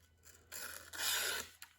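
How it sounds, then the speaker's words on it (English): Blade of a Cold Steel throwing knife scrapes across paper in two brief dry rasping strokes, close and quiet, with a small tap after. "It's not cutting paper."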